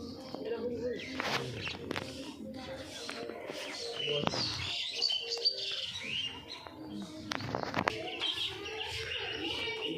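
Pet pigeons from a kept flock calling and cooing, with chirps and tweets overlapping throughout at moderate loudness while someone talks over them.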